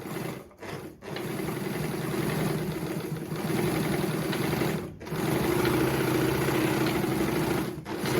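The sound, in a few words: Jones model 461 sewing machine running while winding a bobbin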